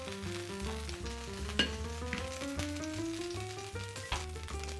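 Seitan sears in a hot pan for a stir fry, giving a soft continuous sizzle under background music with a few brief clatters.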